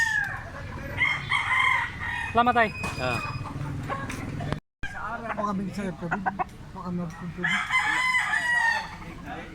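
A rooster crows loudly nearby at a rooster pen in Consolacion, Cebu, while people talk over it and hens cluck in the background.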